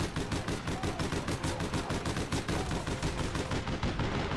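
Rapid automatic gunfire in the online shooter game APB Reloaded, a steady, loud burst of evenly spaced shots running for several seconds without pause.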